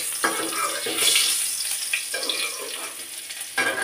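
Gourd peel and coarsely chopped onion frying in oil left from frying fish, a crackling sizzle broken by a few stirring scrapes and knocks.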